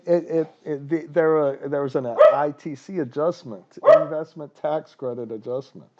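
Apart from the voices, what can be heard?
dog barking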